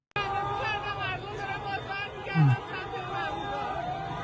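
A crowd of protesters gathers at night in a capital city under martial law, a dense continuous hubbub of many voices with some louder shouts rising midway, steady and fairly near.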